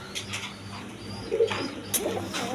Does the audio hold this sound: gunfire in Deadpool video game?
no